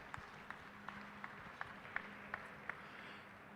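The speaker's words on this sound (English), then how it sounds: "Let's give them a big round of applause for their involvement in this." Faint, sparse clapping from a small audience at a cattle show at the Iowa Beef Expo. A few distinct claps land at a slow, uneven rhythm over a quiet background hum.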